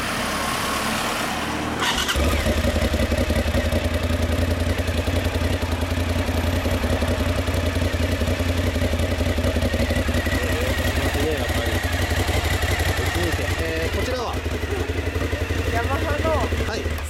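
Cagiva Xtra Raptor 1000 motorcycle, a 996 cc engine on its stock muffler, starts and settles into a steady, moderately loud idle that runs continuously after the opening seconds.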